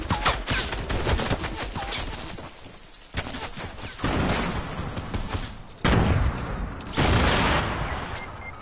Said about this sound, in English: Horrible shooting. Horrible shooting.